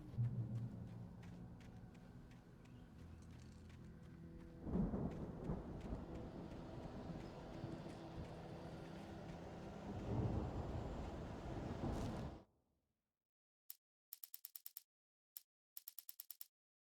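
A thunderstorm in a video game: continuous heavy rain with deep rolling thunder that swells twice, then cuts out abruptly, followed by short bursts of crackling static.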